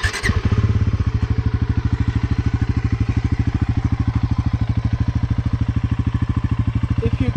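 A Bajaj Pulsar NS400Z motorcycle engine idles nearby with a steady, loud, evenly pulsing low throb after a brief startup blip.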